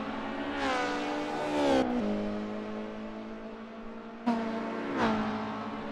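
A BMW 320i touring car races at Brands Hatch in a 1990s BTCC racing video game, its engine whining and revving loudly with rising pitch sweeps and abrupt gear-shift drops, a sustained close mechanical drone.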